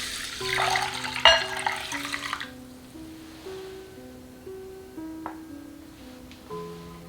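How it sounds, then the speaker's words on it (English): Water runs and splashes steadily for about two seconds as glutinous rice is swished under a tap, then fades, leaving soft melodic tones in the background. "Rinse rice 2 times."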